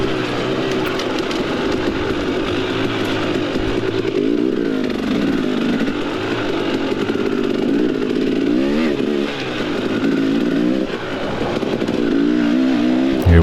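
A 300 dirt bike engine revs hard and continuously on a climb during a Moonshine Holler cross-country race in Cadiz, Kentucky, its pitch wavering up and down as the throttle works, loud and close.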